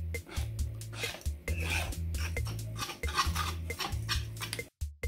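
Ragi flour batter being stirred and dissolved in a pot to a lump-free mix, a steady scraping and clinking of utensil against the vessel running continuously with a brief pause near the end.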